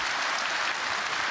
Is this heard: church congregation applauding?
yes